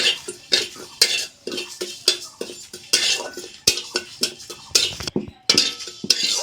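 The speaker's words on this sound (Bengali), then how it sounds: "এর মধ্যে দিয়ে দিচ্ছি একটা শুকনো লঙ্কা আর 1 চামচ মৌরি। মশলাটা একটু ভেজে নেব।" A dry red chili and a spoonful of fennel seeds fried in a pan with five-spice seasoning, heard as a string of sharp, close metal scrapes and clinks from stirring over a faint sizzle.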